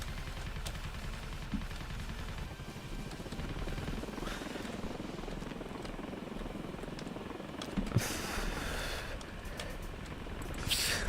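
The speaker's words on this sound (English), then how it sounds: "at least there's another helicopter for me to take" Helicopter in the video game Ravenfield, a steady broadband rotor and engine drone filling the whole stretch at moderate level, with a few sharp gunfire-like cracks popping over it.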